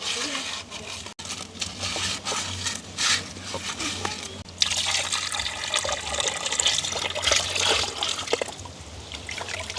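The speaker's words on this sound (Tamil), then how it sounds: "இப்போ நாங்கள் நல்ல வடிவாக பிரட்டி போட்டு கழுவுவோம்." Water splashes and trickles steadily as tilapia is rubbed and rinsed with turmeric and salt in a pot, close-up and continuous, with swishing surges and faint background voices.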